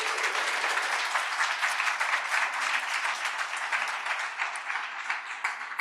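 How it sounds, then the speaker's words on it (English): A quick round of applause from an audience at a community event, honouring state officials; dense, even clapping fills the room for several seconds without speech, easing off near the end. "Can we just give them a quick round of applause?"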